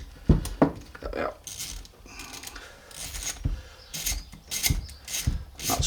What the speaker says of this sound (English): So I'll just get my socket on here and undo them.